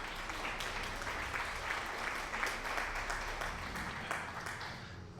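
Steady applause-like clapping fills the whole stretch, a dense, even wash of claps at moderate level with no voices over it.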